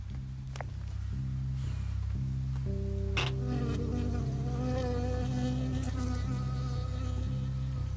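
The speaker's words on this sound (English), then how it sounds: "I got stung by a bee." A bee buzzes close by in the video game Firewatch, a steady droning hum lasting several seconds over a quiet ambient background, with no talk.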